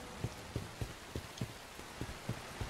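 Rain in the video game Bright Memory Infinite, heard as a steady hiss with regular soft tapping pulses, moderately loud and continuous, with no talk.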